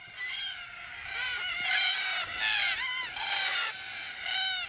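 Cockatoos calling at an evening watering hole in Australia, a flock of harsh, raucous screeches overlapping in repeated bursts, loud and continuous with no voices.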